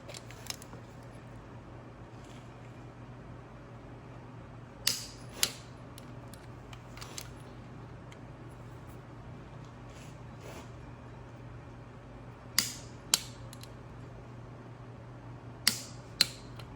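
A torque wrench tightens bolts on a Subaru STI Type RA long block, giving sharp, isolated clicks that come in close pairs several seconds apart over a steady low workshop hum.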